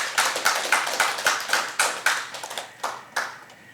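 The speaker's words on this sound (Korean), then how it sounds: "우리 다시 한번 박수 부탁드리겠습니다." Applause from the audience at a Korean civic rally, heard as a run of sharp, evenly spaced claps, loud and close, that thin out toward the end with no talk over them.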